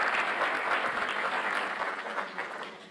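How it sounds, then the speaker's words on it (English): Steady applause from a graduation ceremony audience, a dense wash of clapping that holds throughout and tapers slightly toward the end. "please don't hold your applause"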